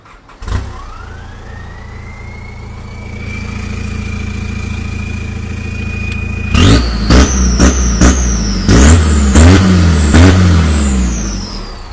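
A tuned street car with a 3-series engine and nitrous tank idles with a rising whine, then revs hard in a series of loud, close throttle blips, each climbing sharply and falling back.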